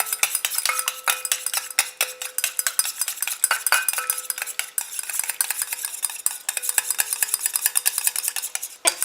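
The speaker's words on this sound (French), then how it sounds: "je rajoute ma phase aqueuse tout en mélangeant" A utensil stirs oil and water phases together in a small container to make a cream, a quick rhythm of clinks and taps against the sides, continuous and close, without speech.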